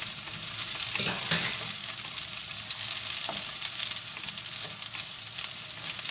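Garlic and onion sputter in a hot pan for chopsuey, a loud steady sizzle with crackling pops and a few stirring scrapes, close and without talk.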